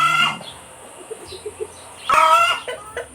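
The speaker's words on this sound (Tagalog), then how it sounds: "sila na ang aking mga manok na may mga sipon ngayon" Backyard chickens with colds make a few short, soft clucks and muffled calls close by, then a louder burst of squawking near the end.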